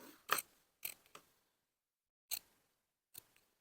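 Sharp scissor snips cutting through waistcoat fabric while sewing angled pockets, about five quiet, close, separate cuts with silent pauses between them.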